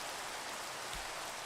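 Steady hiss of rain falling in a Goosebumps HorrorLand video game, faint and continuous with a soft low thump near the end, no talk.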